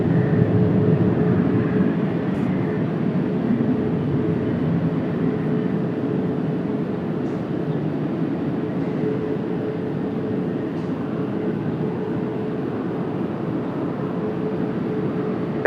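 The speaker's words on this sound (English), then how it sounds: "777-300ER depart over here in front of us, we'll crank it up again." A Boeing 777-300ER heavy jet departs Washington Dulles on a cloudy day, a steady, broad, loud roar that holds evenly throughout, with no talk over it.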